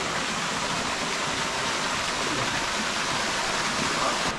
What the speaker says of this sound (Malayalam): ഒരു തോട് വരുന്നുണ്ട്.